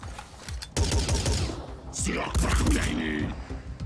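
Gunfire in the tactical game Phoenix Point, a salvo of sharp shots following a deployed automated turret, mixed with battle noise and someone talking over it.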